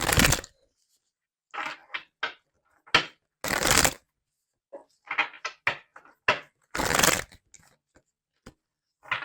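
Tarot cards are shuffled in quick, crisp bursts of riffling and flicking, separated by brief silences, close and fairly loud with no voices.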